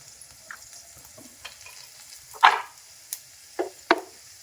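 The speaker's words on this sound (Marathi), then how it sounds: "तर तेल आपलं तापलेलं आहे, त्यामध्ये आपण राई टाकूयात" Mustard seeds and cumin crackle in hot oil as the spice tempering for a spicy brinjal masala. It starts with a faint background sizzle, then a few sharp pops and spits come and go, the loudest near the middle and at the end.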